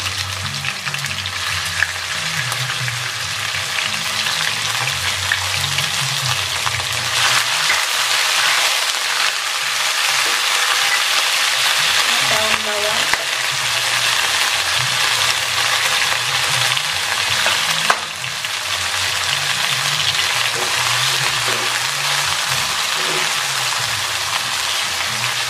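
Chicken fries in hot oil in a pan, a loud, dense, continuous sizzle like heavy rain, with occasional scraping and clanking of a utensil as it is stirred, close and without talk.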